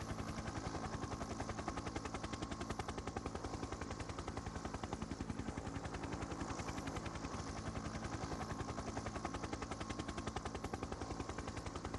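Helicopter flying overhead during the Marcialonga cross-country ski race in 2012, a loud, continuous rapid rotor chop throbbing steadily throughout with no talk.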